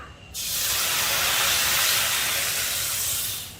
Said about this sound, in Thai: ใส่น้ำเปล่าลงไปเลยค่ะ สักประมาณ 1 ลิตรนะคะ